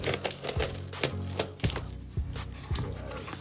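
A cardboard box being cut open one-handed with a blade, giving a run of sharp, close scraping clicks and slicing strokes in an uneven rhythm over a low background hum.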